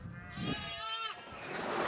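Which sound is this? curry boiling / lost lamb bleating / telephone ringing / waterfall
lost lamb bleating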